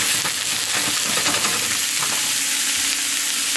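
Garlic and onions fry in a pan with a dense, loud, continuous sizzle and hiss, close up and steady for the whole stretch, no talking.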